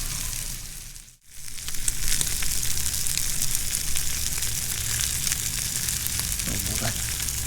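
Venison burgers fry in a pan outdoors, a dense continuous sizzle that briefly dips and then returns loud and steady, with faint voices underneath.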